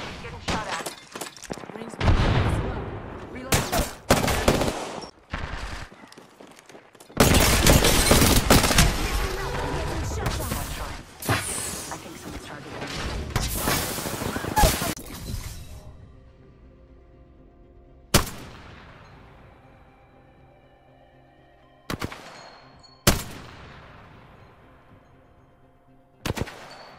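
Gunfire in the battle royale game Apex Legends: dense bursts of rapid automatic shots at close range, then a few sharp single shots with ringing tails, under voices talking.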